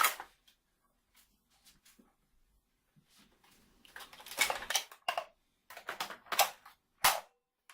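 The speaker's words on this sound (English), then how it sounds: "I'm out. Change mags." Magazine swap on a Nerf Vyper T-28 blaster fitted with an ammo counter: a handful of sharp plastic clicks and clacks, close and fairly loud, in separate bursts with short pauses between them, and no voices.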